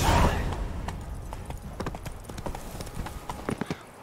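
Hooves of a horse trotting in a video game, a steady rhythmic clip-clop of hoofbeats that starts after a brief whoosh and runs fairly close at moderate volume to the end.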